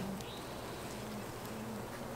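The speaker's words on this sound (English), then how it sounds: "I've never had to disturb bees like this in such an agitated way by removing what they're working on." Agitated honey bees buzz around an opened hive as a beekeeper disturbs their work, a faint, steady insect drone with scattered higher whines from individual bees passing close, no voices.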